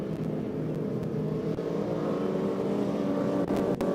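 Short course race trucks roar off the start of a 12-lap main event on a dirt track, engines revving hard in a dense, continuous blended drone at moderate distance, with no talk over it.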